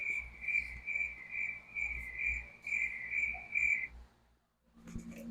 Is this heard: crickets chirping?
yes